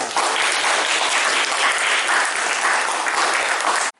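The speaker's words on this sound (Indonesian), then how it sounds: "Tepuk tangan dong buat kita semuanya." An audience claps together after a prayer at a chemistry teaching session, a thick continuous burst of applause lasting about four seconds before it cuts off abruptly.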